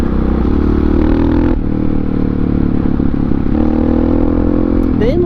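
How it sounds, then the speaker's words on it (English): Honda XR650R supermoto with a long-stroke single-cylinder thumper engine, riding on the road: a loud, close, throbbing engine note holding steady with a few shifts in pitch, wind and chassis clatter mixed in. "The thumper, the long stroke thumper sounds really good,"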